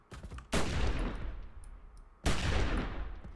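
Two loud sniper rifle shots from the video game Battle Steed Gunma, each a sharp crack followed by a long decaying echo, spaced under two seconds apart.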